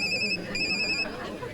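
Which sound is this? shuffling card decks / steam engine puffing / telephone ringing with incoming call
telephone ringing with incoming call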